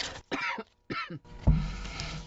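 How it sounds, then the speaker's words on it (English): A single harsh, throaty cough from a person who has been sick for weeks, close and loud, following a few moments of quiet speech. "I've had this cough now for like 3 weeks."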